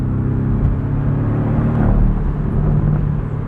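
A 2024 Porsche 718 Boxster Style Edition with its flat-four engine, heard from inside while driving: a steady low droning rumble with a slight rise in revs, close and continuous, no talking.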